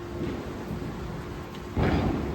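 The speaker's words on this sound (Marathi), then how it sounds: "तुम्हाला सगळीकडे नुसते फटाके वाजतात" Firecrackers give a dull boom in the distance over a steady hiss of rain during Diwali Lakshmi Puja celebrations.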